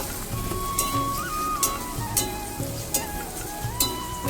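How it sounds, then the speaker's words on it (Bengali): Ground cumin, coriander and other spices are stirred in a frying pan, a soft sizzle punctuated by regular scraping strokes of the spoon, about one every half second, with a faint tonal hum underneath. "বন্ধুরা সব উপকরণগুলো দিয়ে এখন ভালো করে নাড়িয়ে নেব"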